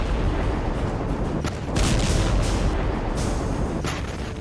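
The Beirut blast in a city market street sounds as a loud, sustained broadband roar of explosion noise, rising slightly in the middle and rolling on without a break.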